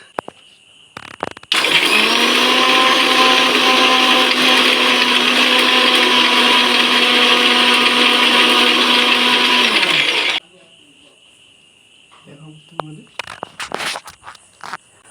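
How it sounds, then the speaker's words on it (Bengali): An electric mixer grinder pulverises cashews, poppy seeds and melon seeds in a loud, steady whirring roar lasting about nine seconds, then stops abruptly; a voice and handling clatter come before and after. "মিক্সিতে নিয়ে নিয়েছি,"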